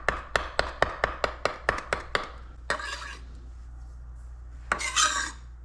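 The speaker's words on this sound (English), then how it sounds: "Mix that all together." Cake ingredients, including chopped orange and lemon, mixed in a bowl for a Sicilian orange cake: a quick run of about ten rhythmic taps, then a scrape and a later brisk stirring swish, close and clear.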